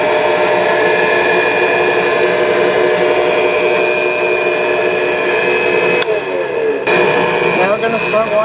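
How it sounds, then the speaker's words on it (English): Power drill boring a mounting hole in a forged twisted J hook, a loud steady whine with tonal harmonics that changes pitch briefly near the end as the bit works through the metal. "Next thing we're gonna do is drill the hole for mounting it."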